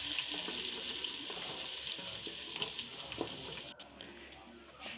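Ginger garlic paste sizzles in hot oil in a pan for beef pulao, a steady, fairly quiet broadband hiss with faint stirring scrapes, ending in a brief break.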